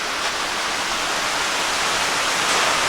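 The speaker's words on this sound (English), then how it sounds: "Right there's our waterfall." A small waterfall near a little reservoir in the Pennsylvania woods pours with a steady, dense rushing hiss, close and constant throughout, with no voices.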